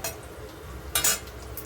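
Fish roe fritters frying in a pan, a steady soft sizzle with a brief louder burst of crackle midway, close and alone with no talk.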